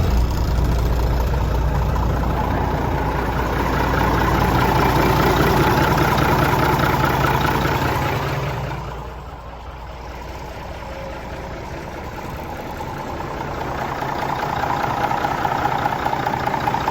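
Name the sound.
Mack truck diesel engine idling after injector pump work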